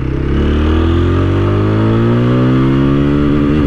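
A TVS Apache RTR 160 4V motorcycle engine revs hard and continuously, its pitch climbing through first and second gear with a brief dip at each shift, loud and close with no talk over it.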